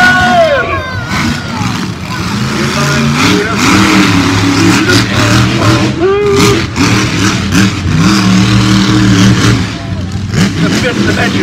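A monster truck engine revs hard at Riverhead Raceway during a figure-8 show, loud and sustained with rising and falling pitch sweeps, over a cheering crowd and an announcer's talk.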